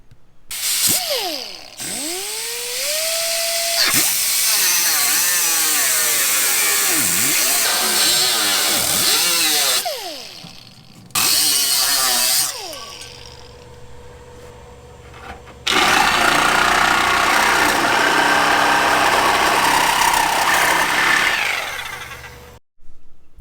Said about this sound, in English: to cut this piece of steel off